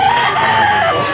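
A two-year-old sweater gamefowl rooster with a straight comb at a busy Grotto pet market, heard over a dense, continuous wash of crowd and other bird noise with crowing-like calls blending in throughout.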